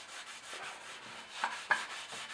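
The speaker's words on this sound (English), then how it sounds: "And it's rubbing all the rust off." Steady, quiet rubbing and scraping as rust is worked off the exhaust header pipes of a Honda Bros NT400 motorcycle during restoration, with soft repeated strokes and a couple of slightly sharper scuffs.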